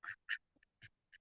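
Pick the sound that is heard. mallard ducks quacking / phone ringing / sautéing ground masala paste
mallard ducks quacking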